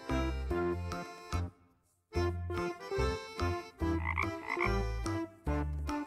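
A frog croaks in several loud, harmonically rich bursts in an irregular rhythm, with one brief pause near the start, heard up close with no talking.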